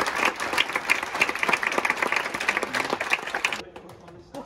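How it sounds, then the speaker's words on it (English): Audience at a university biosciences conference claps for its speakers and helpers, a dense burst of hand claps that holds steady, then cuts off abruptly near the end, leaving quiet room noise. "give yourselves a round of applause"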